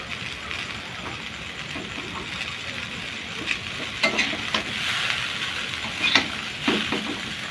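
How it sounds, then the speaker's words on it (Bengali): Vegetables and chow mein noodles fry in a pan in village-style home cooking, giving a close, continuous sizzle with scattered scraping and stirring knocks. "সবজিটা ভাজা হয়ে গেছে, দিয়ে দেবো চাউমিন, ছেড়ে দেবো চাউমিনগুলো।"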